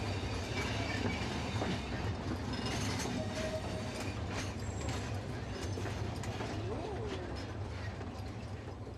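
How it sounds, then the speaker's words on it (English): A Soller Railway train rumbles steadily between carriage sheds and workshops as it pulls into Sayre station on Mallorca, with continuous close wheel and carriage clatter, faint squeals and ratcheting mechanical clicks. "the train passes between carriage sheds and workshops and pulls into Sayre"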